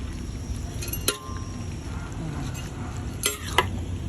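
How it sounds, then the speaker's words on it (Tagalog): Bihon and pansit bato noodles being stirred and tossed together in a pan, a steady soft scraping and sizzling churn with a few sharp utensil clinks against the pan. "Mix together para mag-well combine ang ating bihon at pansit Bato."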